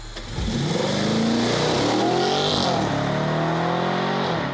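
Audi RS4 with a 4.2-litre V8 accelerating hard on a race track, the engine revving loudly with a rising then steady, rumbling tone heard close and continuous.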